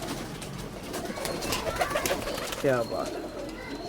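A unique pigeon among dove-type birds kept at home coos in a short rolling phrase near the end, over steady background noise while someone talks.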